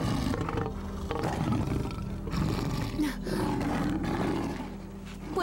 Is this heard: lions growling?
yes